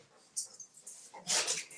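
A dog whimpers and yips in short, high, breathy bursts close by, with a louder cluster of whines near the end and no talking.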